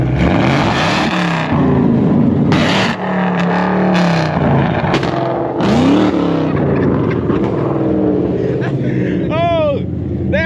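Toyota Supra revving hard at a street pit event, with loud, surging engine roars and rising and falling pitch sweeps, mixed with excited voices talking nearby.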